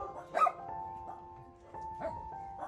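A rescued dog that had lived for years behind a house gives a short bark or yip, then fainter whimpering sounds, at a moderate distance in a quiet outdoor setting.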